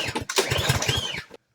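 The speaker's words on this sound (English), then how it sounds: "pull your engine over and see if there's spark" A 4-stroke small engine being pulled over by its recoil starter: a quick series of rhythmic low chugging pulses with a rising rope whir for just over a second, then an abrupt stop into silence.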